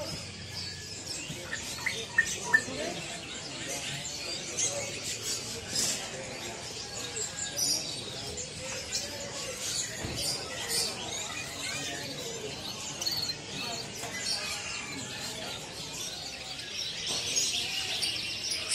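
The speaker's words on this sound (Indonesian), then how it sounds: "Tempatnya burung kenari" Canaries sing and chirp densely at a bird market kiosk on the ground floor of a building, many birds trilling continuously at close range with crowd noise and voices talking underneath.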